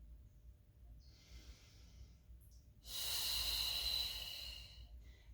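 A single long, forceful exhale through the mouth during a Pilates mat exercise, a close breathy hiss lasting about two seconds after a quieter stretch of soft background noise.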